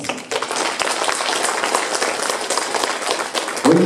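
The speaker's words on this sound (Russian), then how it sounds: "Ольга Филиппова, ваши аплодисменты." Audience applause fills a concert hall after a poetry reading on stage, a dense steady clatter of many hands clapping for the whole stretch, loud and continuous with a brief swell at the end.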